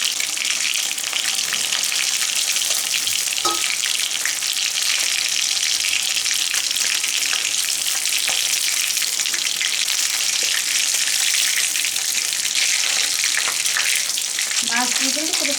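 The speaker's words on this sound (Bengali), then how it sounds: "আর যেগুলো মাছ আছে সবগুলো আমি ভেজে নেবো একইভাবে।" Pieces of stingray fish sizzle steadily in hot oil, the frying loud and continuous throughout, with a brief clink partway through and some stirring near the end.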